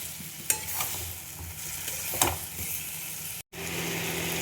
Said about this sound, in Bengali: দেখো আমার সবজিটা কষানো হয়ে গেছে, তেল ছাড়তে আরম্ভ করেছে।